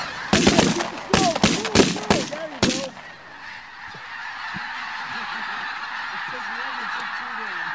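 Specklebelly geese on a goose hunt, with a rapid volley of loud shotgun blasts cutting through their honking at first, then a steady chorus of nearby goose honks and calls continuing alone.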